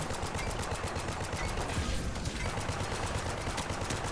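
Continuous rapid gunfire from the video game Paladins, a dense unbroken stream of shots at steady loudness, with no talk over it.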